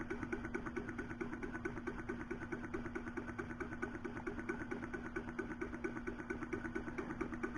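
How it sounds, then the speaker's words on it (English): A small horizontal Stirling engine runs steadily on its own, giving a soft, even, rapidly repeating mechanical chuff with a constant low hum underneath, quiet and close. "It's weird how you can sit and just get mesmerized watching watching these little engines run"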